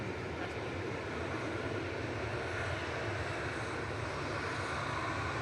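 An aircraft departing from a runway at Manchester Airport, a continuous, even engine roar of moderate loudness that stays steady throughout, with no talking.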